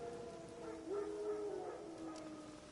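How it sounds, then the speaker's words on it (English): Wild dogs howl far off in a quiet setting, one faint, drawn-out rising howl over a low hushed background. "No. Wild dogs."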